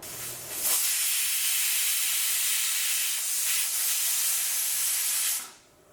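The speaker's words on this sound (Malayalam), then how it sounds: "ഇപ്പോൾ കുക്കറിൽ നിന്ന് ഒരു വിസിൽ വന്നിട്ടുണ്ട്." A pressure cooker cooking dal and spinach vents a loud, steady steam hiss that starts abruptly, holds for about five seconds close by, then cuts off.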